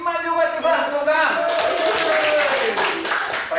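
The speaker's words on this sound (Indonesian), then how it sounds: "Tepuk tangan buat Rozin." Children in a classroom burst into a round of applause, a dense patter of small hands clapping close by, partly under a sustained voice that carries on over the start and through the clapping.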